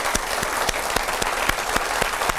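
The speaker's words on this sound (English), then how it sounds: "Keep clapping, keep clapping." An audience applauds at a televised debate on Nigerian rent regulation, with steady dense clapping and a few louder individual claps standing out in a regular pattern, and little talk underneath.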